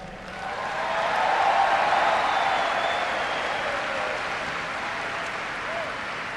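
Large crowd at a 2012 presidential victory speech bursts into sustained applause and cheering, swelling within the first second and holding as a loud, dense wash throughout.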